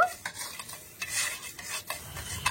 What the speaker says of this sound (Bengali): এবার আমি চিনিটা ভালো করে গলিয়ে নেব